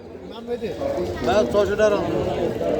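Pigeons cage-cooing at an outdoor bird market in Barishal give soft throaty calls close by, partly under a voice and market chatter.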